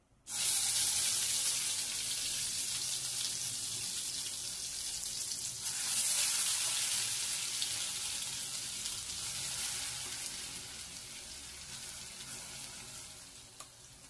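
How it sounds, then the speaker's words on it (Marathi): Coconut chutney tipped into a pan of crackling mustard seed tempering over low gas, giving a loud, steady hiss and sizzle that eases slightly partway through and fades toward the end, with no talking. "आता यामध्ये आपण ही चटणी टाकूया, खोबऱ्याची चटणी टाकूया।"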